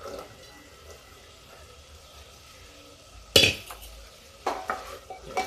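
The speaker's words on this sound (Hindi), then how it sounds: "देखिए अब हम राजमा डाल देते हैं" Rajma kidney beans go into a pan and are stirred, with a couple of sharp scraping and clattering bursts over a faint background sizzle.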